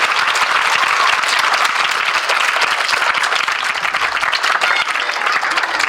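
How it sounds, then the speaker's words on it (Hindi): Loud, dense applause from a group of small children at a Teachers' Day school programme, steady and close throughout with no gaps. "जोरदार ताली बजा दीजिए।"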